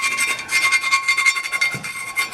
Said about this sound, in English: I just take a file that has a round profile